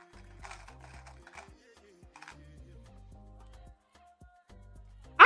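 A sewing machine stitches a jumpsuit in short mechanical bursts with pauses between runs, moderately loud and close, ending in a sharp louder clatter.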